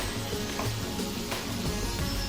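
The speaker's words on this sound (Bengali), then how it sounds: "পনিরগুলোকে অল্প একটু হালকা করে ভেজে নিতে হবে" Paneer pieces fry in oil and butter in a pan, giving a close, continuous sizzle with soft bubbling and faint stirring movements.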